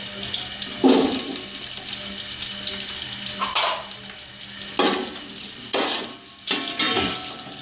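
Onions fry in hot ghee with whole garam masala, a steady close sizzle broken by several louder bursts of stirring and scraping in the pan.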